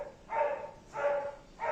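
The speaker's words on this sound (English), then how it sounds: "I want to hear something other than these dogs barking" Dogs bark indoors in three short bursts, each a sustained, moderately loud bark with quiet gaps between.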